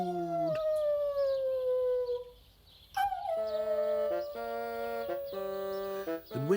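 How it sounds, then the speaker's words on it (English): A cartoon puppy howls in long, tonal, falling wails, two drawn-out howls separated by a brief pause, loud and upfront with a rich musical quality. "What a Mess felt so miserable, he howled and howled"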